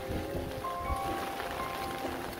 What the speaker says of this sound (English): And again, it is raining right now.